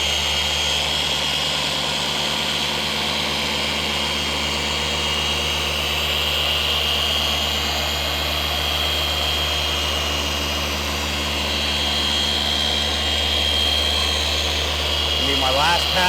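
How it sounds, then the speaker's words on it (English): A Rupes polisher buffing and compounding a black boat hull hums with a steady, smooth motor whine that runs continuously throughout, with a brief rise in noise near the end. "The machine is really, really smooth. That's the beauty of using these Rupeses."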